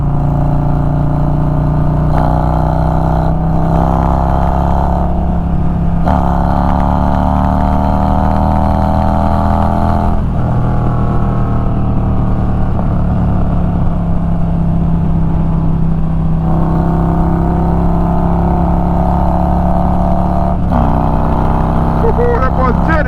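Old Harley-Davidson motorcycle pulling hard through the gears on the road, a loud, steady engine drone with several rising pitch sweeps as each gear winds out, heard from the rider's position with wind rumble underneath.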